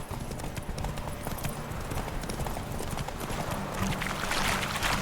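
Roach, Geralt's horse in The Witcher 3, gallops in a steady rhythmic clip-clop of hooves close by, continuous over the whole stretch alongside game ambience.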